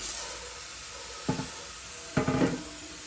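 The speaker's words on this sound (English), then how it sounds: "I've changed it to a slightly finer spray pattern." A hand pump sprayer spraying foam into a sink on a finer spray pattern, heard as two short hissing bursts, the second longer than the first, close and fairly loud against a quiet background.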